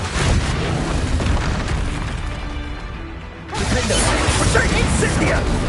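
A Confringo fire-blast spell explodes in the Hogwarts Legacy game as loud, dense booms and crashing bursts that fill the scene, dip briefly, then surge again, with a voice calling out over the blasts.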